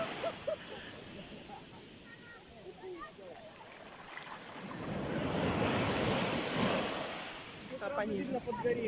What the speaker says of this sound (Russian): Большая волна.